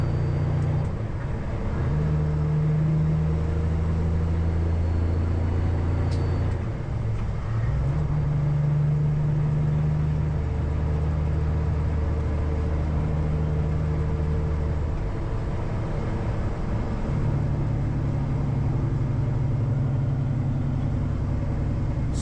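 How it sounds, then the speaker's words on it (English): A truck with a Cummins ISX engine drones steadily while cruising on a highway, a low constant rumble with slight swells in pitch and no talking. "So this truck has a Cummins ISX"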